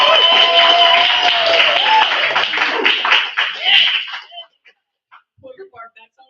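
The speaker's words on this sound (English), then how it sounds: "Make some noise and clap it up for" An open mic and slam audience claps and cheers loudly for a performer on stage, a dense burst of applause with voices mixed in that stops abruptly partway through, leaving only scattered faint sounds.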